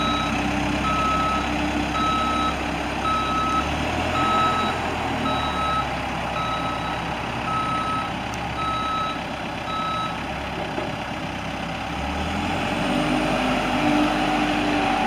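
A 2007 LULL 944E-42 telehandler maneuvers in crab steer with its diesel engine droning steadily and a loud, regular reversing beeper chirping throughout.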